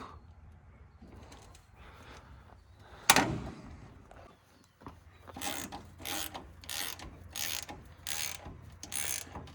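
Corn dryer mechanism rocking a pan back and forth, giving a run of rhythmic metallic rattling and clanking pulses, fairly close, after one sharp bang.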